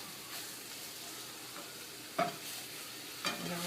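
Meat sizzles in a pan beside zucchini prep as a utensil breaks it into chunks, giving a steady soft fry with two distinct scraping knocks from the spatula; no talk.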